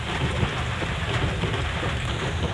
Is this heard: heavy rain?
yes